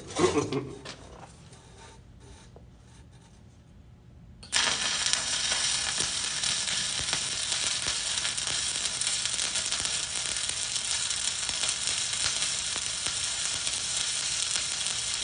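Stick welding arc giving a loud, steady, crackling sizzle. It starts abruptly after a quieter opening with a brief hiss and runs unbroken to the end.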